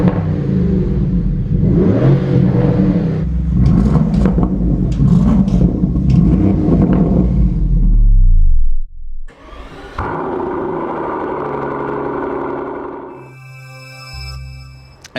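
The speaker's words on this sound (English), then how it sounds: "The exhaust system is made by Akrapovic and the sound is" A 2027 Lamborghini Urus SE Performante V8 hybrid SUV with an Akrapovic exhaust, revving loudly and close up with rising and falling blips, then a sudden cut and a steadier engine drone ending in a high whirring tone.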